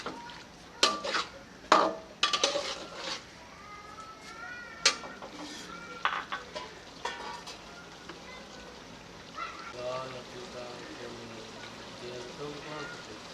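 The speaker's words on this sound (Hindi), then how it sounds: "इसे थोड़ा सा मिक्स कर लेंगे।" Metal spoon scraping and clanking against a pan while chicken jalfrezi is stirred, irregular clinks and scrapes in the first half, then quieter sizzling under someone talking.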